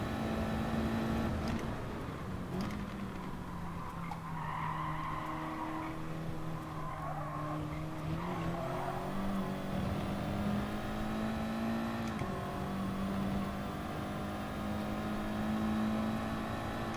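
Race cars in a racing video game from an FIA manufacturer series, engines droning steadily with rising and falling revs and occasional tire squeal, heard alone at moderate level.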